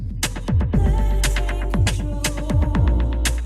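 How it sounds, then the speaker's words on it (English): An electronic music loop played on a Launchpad app with an echo DJ effect, punchy kick drums and sharp hits repeating and trailing off in quick decaying copies. "We've got some echoes,"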